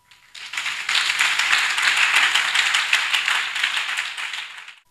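A church congregation breaks into sustained rhythmic applause and acclaim, rising quickly and holding steady for several seconds before fading out, with no talk over it.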